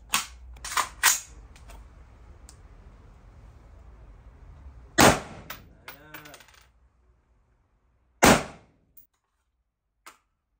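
Several sharp, loud .223 caliber shots from a long-barreled AR-15 rifle ring out, a quick burst early on, then single shots spaced a few seconds apart, each with a short echoing tail.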